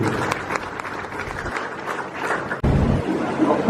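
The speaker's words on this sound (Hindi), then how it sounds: "इसलिए जोरदार ताली बजा करके स्वागत करते हैं।" An audience claps to welcome a speaker at a national gathering on the Gondi language and religion code in Gariabandh, Chhattisgarh: steady, fairly loud applause that briefly dips and then swells again.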